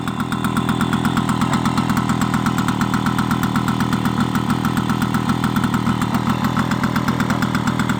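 The small two-stroke engine of a vintage Motobécane Mobyx X7 moped runs steadily nearby, its rapid putt-putt pulses buzzing and rattling at an even idle.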